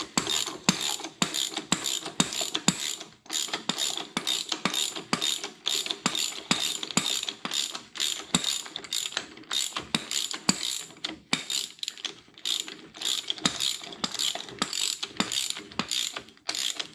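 A socket wrench ratcheting on the 1 5/8-inch axle nut of a 1955 car, rapid bursts of close metallic clicking in steady back-and-forth strokes with brief pauses throughout.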